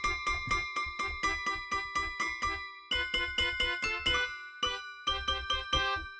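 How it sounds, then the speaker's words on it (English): A toy piano and a toy melodica play together: bright, tinkling repeated notes in quick, even bursts with short gaps between phrases, loud and close with no voices. "It's just a toy piano and a toy melodica."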